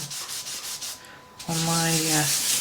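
Cotton wool rubbed over coloured pencil on paper, a soft, close scrubbing in quick back-and-forth strokes that pauses briefly and then returns louder, with a faint tone partway through.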